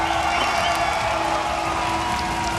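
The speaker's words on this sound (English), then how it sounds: "this crowd in Lund, they make it sound like it's a big one." A crowd in Lund celebrating a Pinnacle Cup win cheers and applauds, a loud, continuous wash of clapping and shouts that holds steady throughout without easing.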